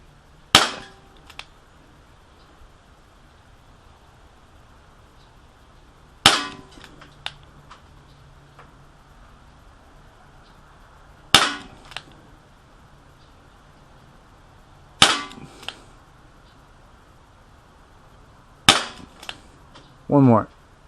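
A Dan Wesson .357 Magnum airsoft revolver fires single-action shots, five sharp cracks spaced several seconds apart, each followed by a faint metallic click, with a brief rattling handling noise at the very end.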